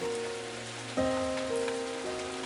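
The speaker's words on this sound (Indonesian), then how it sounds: "Biar kelar nih hujan." Steady rain falls as a continuous, even hiss, with sustained musical tones droning beneath it throughout.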